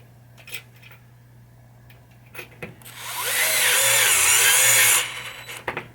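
A power screwdriver drives screws during a rollover wire install on a 1980 Williams Firepower pinball machine, a loud whirring burst of about two seconds amid light clicks and handling sounds, close by.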